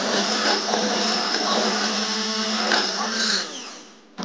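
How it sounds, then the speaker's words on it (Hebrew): An electric blender grinds a sauce to a smooth texture in a home kitchen, a steady loud whirring drone that runs for several seconds before cutting off near the end. "זה בעצם טוחנים את הרוטב שלנו למרקם חלק"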